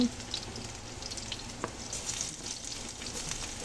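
Garlic sautéing in a pan for sinigang na salmon, a steady soft sizzle of frying heard up close for a few seconds, with no one talking.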